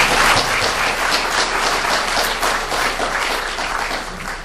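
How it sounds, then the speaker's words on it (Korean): A debate-event audience applauds, a dense, sustained wash of clapping from many hands that carries steadily at close range throughout. "발표해 주신 저희 후보님께 다시 한번 박수로 환영합니다."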